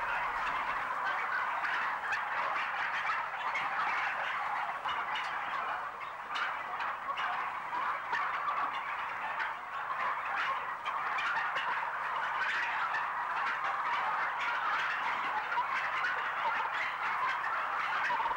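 A large crowd of farmed turkeys in a UK turkey shed, a dense, continuous din of overlapping gobbling and clucking filling the space at steady loudness with no talking.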